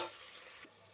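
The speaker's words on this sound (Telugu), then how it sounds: "ఇంకొక 5 నిమిషాలు ఉంటే ఉల్లిపాయలు వేగిపోతాయి" Sliced onions frying for chicken pulao, a steady soft sizzle in a pan with a faint stir near the end, alone and fairly quiet.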